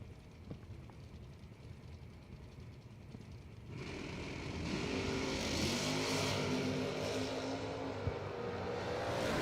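A 1967 Chevrolet Camaro drag racing at the 5th Annual Numidia 150: after a quieter stretch, a loud engine roar suddenly kicks in and holds, a sustained accelerating blast.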